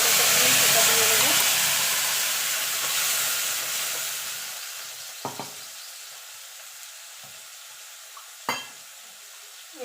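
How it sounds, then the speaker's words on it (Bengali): Whole spices (dry chilli, bay leaf and cumin) frying in oil in a pan, with a strong sizzle at first that fades to a quieter hiss, broken by a few sharp utensil taps near the end. "এবার ফোড়নটা একটুখানি ভাজা ভাজা করে নেব"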